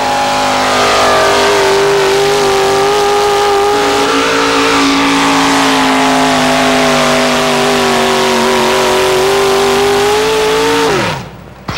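A GMC pulling truck with a Jim Lyons-built engine revs hard and steady down a pulling track, a loud close sustained roar that holds high pitch for about ten seconds before dropping off sharply at the end.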